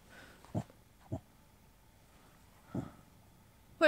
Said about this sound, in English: What are you growling at?